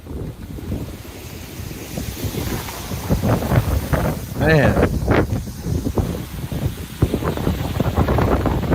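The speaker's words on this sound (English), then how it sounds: "listen to the sound it's making. The wind and the rushing of it." Steady wind buffeting the microphone over a rushing, churning roar of flowing lava and water among grass and dirt, continuous and loud outdoors, with someone speaking briefly over it.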